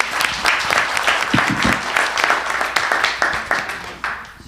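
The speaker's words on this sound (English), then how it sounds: "Let's give a round of applause to our panel." Audience applause for a panel closing a police civilian internal affairs review commission summit: a burst of many hands clapping close by, slightly uneven, gradually thinning out toward the end.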